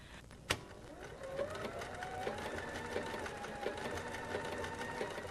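A Bernina Artista 180 sewing machine bastes a folded fabric hem. A sharp click comes first, then a steady whirring stitch runs close and continuous, with a faint pulsing rhythm.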